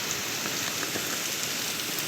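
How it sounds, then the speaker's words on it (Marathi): Steady rain falls in a village setting, a soft, even hiss of drops on surfaces that holds at a constant level for the whole stretch, with no voices. "इतका छान पाऊस पडत आहे."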